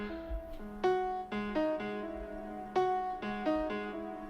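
Guitar played through an Eventide H90 effects pedal with hot switch 1 engaged gives a quiet, clean run of plucked notes and chords, each ringing and decaying in a relaxed repeating phrase.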